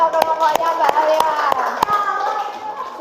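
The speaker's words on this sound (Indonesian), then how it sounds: "Tepuk tangan untuk kelompoknya Mbak Alia." A group of children and adults in a classroom break into rhythmic applause for a presenting group, with sharp, evenly spaced claps ringing out over a loud background of chatter and voices.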